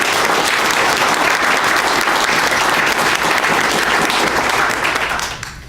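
An audience at a councillor swearing-in ceremony gives a sustained round of dense applause that stays loud before tapering off near the end.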